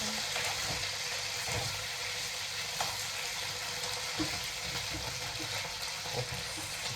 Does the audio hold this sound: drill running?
no